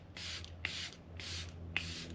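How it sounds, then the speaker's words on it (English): Makeup setting spray spritzed onto a face in quiet, close bursts: about four soft hissing sprays in a steady rhythm, each a brief airy whoosh with a faint pump click. "I'm just gonna give it a shake, and then I'm gonna spray my face"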